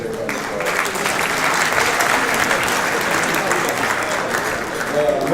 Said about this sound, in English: You should give yourself a great round of applause.